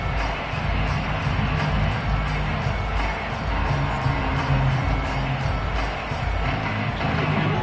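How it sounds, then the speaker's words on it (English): Stadium crowd noise during a simulated NFL game between the Rams and Cowboys, a continuous dense roar of cheering and applause with faint whoops, steady and moderately loud throughout. "It's worthy of some applause."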